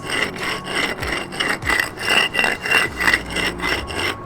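A concrete skate ledge is rubbed smooth at its edge and top, giving a continuous loud scraping and rasping grind in short back-and-forth strokes, up close and with no voice.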